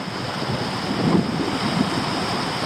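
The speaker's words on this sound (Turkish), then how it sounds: "Esinti bayağı var." A strong breeze blows across the Black Sea coast at Kerpe, a steady broadband rush of wind buffeting the microphone, with a faint swell of surf beneath it and no speech.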